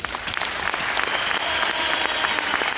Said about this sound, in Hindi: एक बार सबके लिए जोरदार ताली।